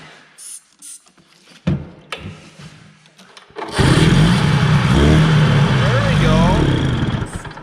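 A Ski-Doo Elan 250 twin snowmobile engine, running rough with a carburetion fault, starts with a few sputters and then holds a loud, close, buzzing run with rising and falling throttle revs as a voice talks briefly over it.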